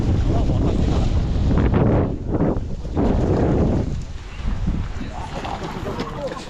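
Strong gusts buffet a microphone outdoors with loud low roaring bursts that rise and fall, and voices can be heard beneath the wind.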